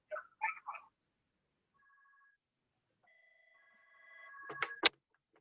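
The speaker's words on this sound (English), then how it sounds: "Pardon me, my phone was ringing." Phone ringing, with a few brief tones at the start, a thin electronic ring, then a rising burst of ringtone notes ending in sharp clicks, fairly faint against silence.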